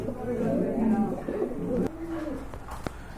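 Large imported pigeons coo in low, throaty, repeated calls that fill the clip, steady and close, with a brief sharper sound near the end.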